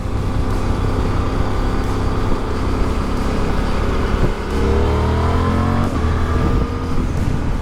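A Suzuki twin-cylinder motorcycle, a V-Strom DE or GSX-8S, revs its exhaust up and down close by, a loud throbbing drone that climbs sharply in pitch midway.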